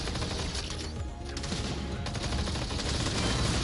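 Rapid gunfire fills the VR shooter Blasters of the Universe, dense bursts of shots rattling almost continuously at close range with a brief lull in the middle.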